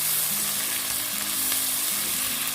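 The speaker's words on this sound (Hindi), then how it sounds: "अब इसमें मैं अदर वेजिटेबल्स ऐड करूँगी। शिमला मिर्च, कॉर्न, गाजर, मशरूम। अच्छे से मिक्स करेंगे इसको।" Capsicum, corn, carrot and mushroom stir-fried in a hot pan for pasta, a loud continuous sizzle with scraping and tossing of the vegetables, no voices.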